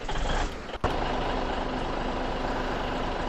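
A truck engine runs steadily in the Farming Simulator 17 video game, a constant loud mechanical drone with a brief dip near the start.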